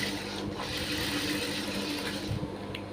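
A sewing machine runs steadily while stitching a blouse, a continuous close whirring and rattling hum that carries on without pause or talk.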